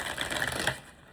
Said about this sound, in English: I just need to shuffle all these decks.